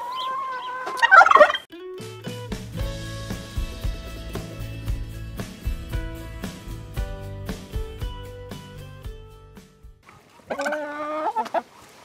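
Turkeys gobble loudly in a backyard garden with chickens nearby, a rapid warbling burst at the start, a long sustained trilling stretch through the middle, and another gobbling burst near the end, close and with no talking.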